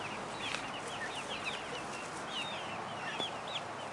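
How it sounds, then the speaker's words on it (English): Chickens cluck and call in a pen shared with chicks and turkeys, a steady farmyard chatter of overlapping short calls with constant background noise and no voices. "expose them to running, noisy, flighty chickens and chicks and turkeys"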